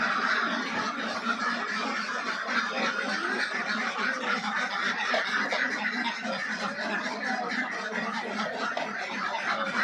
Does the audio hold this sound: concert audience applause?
no